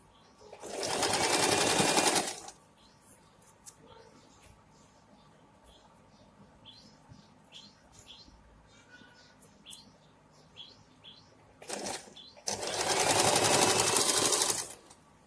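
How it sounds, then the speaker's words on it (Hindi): A sewing machine stitches a pant hem over elastic in two loud bursts of running stitches, one near the start and one near the end, with quiet handling and faint chirps between. "इलास्टिक को और इस सिलाई को कवर करते हुए सिलाई लगाएंगे"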